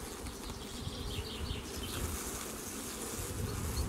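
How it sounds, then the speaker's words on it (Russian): A steady, dense hum of many honey bees buzzing close by in a hive super, continuous and fairly loud, with no voices over it. "Пчелы в магазине работают."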